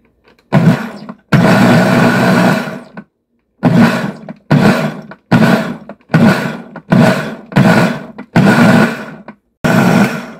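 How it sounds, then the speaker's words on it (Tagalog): A blender blends lettuce kimchi ingredients in a series of short pulsed bursts, loud and close, with brief silences between each whirring pulse. "isasama natin siya sa blender, pero dahan-dahan lang natin siyang i-blend"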